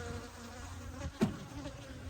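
Honey bees buzzing around hives in a bee yard, a steady close drone with one bee passing loudly near the middle.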